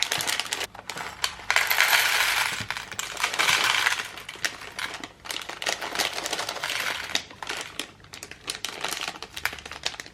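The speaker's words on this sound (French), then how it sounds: "On va ouvrir le deuxième sachet." A bag of small plastic building-block pieces for a flower set is torn open and handled, giving bursts of crinkling plastic and rattling, clinking pieces, loud and close, with no talking.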